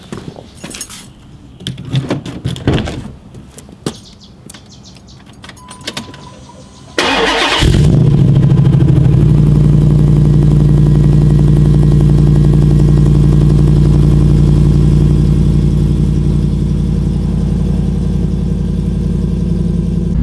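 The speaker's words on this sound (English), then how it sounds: "why don't we go ahead and give you a cold start" A Jeep Wrangler with a Hemi engine swap, started cold: quiet rustling and key jingles, then the starter cranks and the V8 fires with a loud burst, settling into a heavy, rumbling high idle that slowly eases down.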